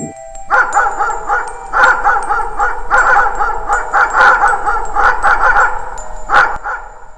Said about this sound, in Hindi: कुछ कुत्तों का झुंड वहां आ पहुंचा और जोर जोर से भौंकने लगा